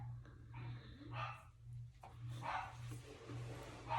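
Dogs bark indoors in a short burst of several yaps and woofs over about four seconds, fairly faint, with a low steady hum underneath.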